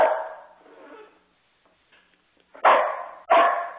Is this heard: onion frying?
no